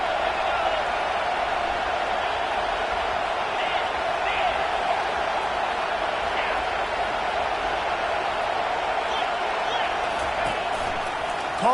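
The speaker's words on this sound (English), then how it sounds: "Fans are bringing the noise on 1st and goal." Steady roar of a football stadium crowd in a video game, fans loud on first and goal, a broad continuous wash of cheering with a few whoops rising through it.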